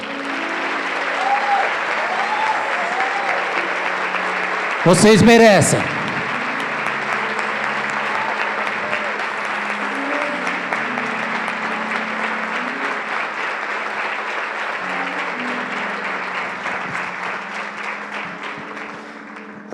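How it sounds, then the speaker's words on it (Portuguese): A church congregation applauds at length, a dense steady clapping that carries on throughout, with a sustained musical tone underneath and a short spoken phrase near the start. "Vamos aplaudir."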